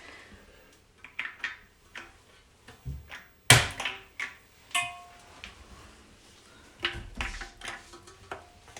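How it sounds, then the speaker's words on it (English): Plastic caps clicked onto toilet bolt cap bases during a Sloan toilet installation, a series of small sharp taps and thunks scattered irregularly, close and fairly quiet. "we're gonna take the caps and put them on top of the bolt cap base."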